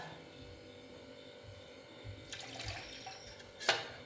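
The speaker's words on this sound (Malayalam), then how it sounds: "അര ഗ്ലാസ് വെള്ളം കൂടെ ചേർത്ത് കൊടുക്കാം" Half a glass of water poured into rice flour batter for soft vattayappam, a quiet splashing pour that builds midway and ends in a brief louder gush, with faint kitchen background.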